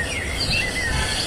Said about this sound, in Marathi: विविध पक्ष्यांचा अधिवास येथे आहे।